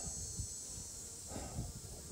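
Bees fly in and out at the entrance of a sparsely populated backyard hive, giving a soft, continuous buzzing hum with a few louder passes as single insects come close.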